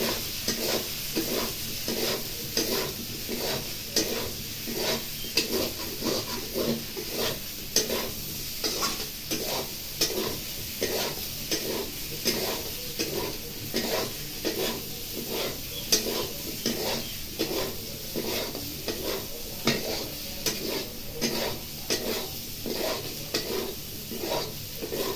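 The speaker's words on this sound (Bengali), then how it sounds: "এবার কচুটা দিয়ে আর একটু ভেজে নেব।" Giant taro root fries with chili and cumin paste in a pan, giving a continuous sizzle. Repeated stirring scrapes run through it in a steady rhythm, close and clear, with no talk.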